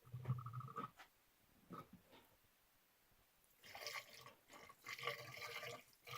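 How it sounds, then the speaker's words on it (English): BMW coolant poured into the coolant bottle of a 2004 BMW E46 gives soft gurgles and splashy liquid trickles in uneven bursts, with quieter gaps between, close and fairly faint. "We're going to start adding coolant to it."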